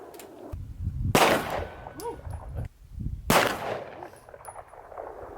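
Pistol shots fired during pistol training at a shooting range, with two loud sharp cracks a couple of seconds apart, each ringing out briefly, alongside faint background noise and no clear talk.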